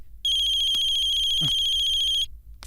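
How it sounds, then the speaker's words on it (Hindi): An electronic phone ringtone trills steadily for about two seconds, loud and close, followed by a brief thump and a short chirp. "ये फोन की बेल बजती है तो ऐसा लगता है जैसे मेरे पागल होने का अलार्म बज रहा है"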